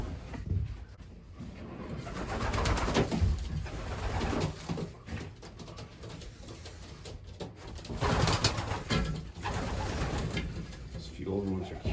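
Racing pigeons coo softly in a loft among young 2020 birds and older ones, low murmuring calls repeating under a person talking nearby, with rustling and occasional handling sounds.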